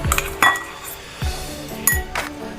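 Coarsely ground corn is scooped from a grinder jar into a bowl. A spoon clinks and knocks against metal and dishware about four times, sharp and close, with soft scraping in between and no talking.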